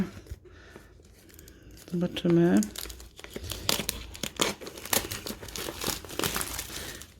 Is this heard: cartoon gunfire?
no